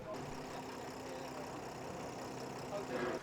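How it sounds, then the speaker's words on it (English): A long-tail boat driven by a truck engine runs at a steady, low drone, moderately close, with faint talk over it. "Once again we boarded a long-tail boat, this time powered by what looks like a truck engine."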